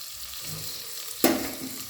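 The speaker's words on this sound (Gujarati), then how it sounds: "આ રીતે મેં અંદર બધા કારેલા ગોઠવી લીધા છે હવે ધીમા તાપે ચડે જશે" Stuffed bitter gourds cook in a pan over low heat with a soft, steady sizzle. A single sharp knock of utensil on pan sounds midway, then the gentle frying continues alone.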